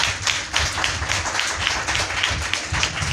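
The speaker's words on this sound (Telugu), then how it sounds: "గట్టిగా చప్పట్లు కొట్టు." A church congregation at a prayer meeting claps hard in a steady rhythm, a continuous run of sharp, even claps from many hands.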